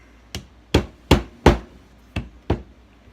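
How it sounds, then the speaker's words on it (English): A mallet strikes a screwdriver to break up a block of beeswax, six sharp, close knocks at uneven intervals of about half a second, each a dull hard impact with a quick decay. "you can break up your beeswax with a mallet and a screwdriver"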